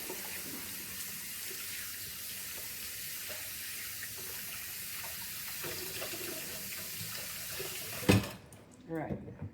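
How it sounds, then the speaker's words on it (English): A tap runs water steadily into a sink while hands are washed after handling raw turkey, a continuous splashing hiss that cuts off near the end, followed by a few handling clatters. "Wash my hands just in case I got some stuff from the turkey."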